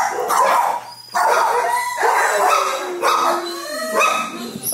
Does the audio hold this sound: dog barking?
yes